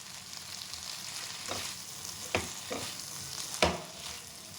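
Tomatoes softening with dried red chillies in a pan for tomato chutney, a soft steady sizzle broken by a few sharp clacks of a spoon against the pan.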